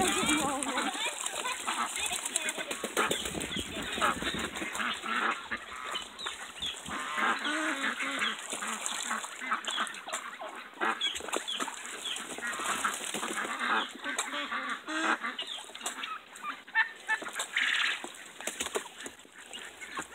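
Ducks call repeatedly outdoors, mixed with other farm fowl and livestock sounds in a busy, continuous barnyard chorus, with a person talking at times.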